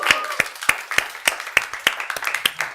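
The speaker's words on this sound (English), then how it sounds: "Clap, everyone." An audience claps in a steady stream of sharp, distinct hand claps at the opening of a live chat event, loud and close, with no talking over it.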